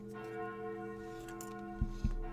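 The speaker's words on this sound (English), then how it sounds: "That sounds like the church noon bells" Church noon bells in the horror dating game Sucker for Love ring as steady sustained tones over a quiet ambient bed, with two low thumps near the end.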